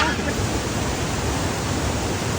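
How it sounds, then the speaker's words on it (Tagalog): Water pours steadily at Queen Falls, a loud, unbroken broadband rush that fills the whole clip without pause. "Nasa Queen Falls na po kami."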